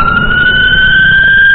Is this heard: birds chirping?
no